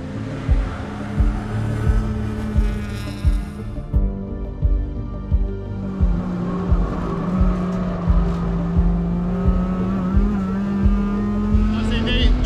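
Honda Civic and Toyota MR-S race cars on a warm-up lap, heard from onboard as a steady engine drone that rises and falls with shifting and revving, with brief tire scrubbing, loud and continuous throughout.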